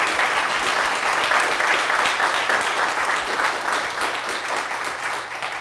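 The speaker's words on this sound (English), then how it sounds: "let's give him and all of them a big round of applause" Audience at a St. Mary's church annual meeting breaking into sustained, dense applause, a full room of clapping that stays loud throughout and tapers only slightly at the end.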